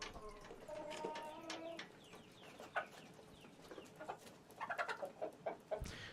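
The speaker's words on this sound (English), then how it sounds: "Whoa, look at that big-ass rooster." Large rooster and hens clucking in a farmyard, a steady stream of short, fairly faint clucks and chirps that grow busier and more clustered toward the end.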